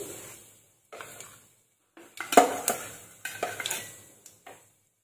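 Mustard and cumin seeds crackle in hot oil in a pan, giving sharp, close pops and spits in short irregular clusters, mixed with a few clinks of the pan and spoon.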